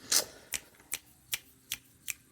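Tarot cards being shuffled, six crisp riffling bursts at a steady, slightly uneven rhythm, close and fairly quiet with no talking.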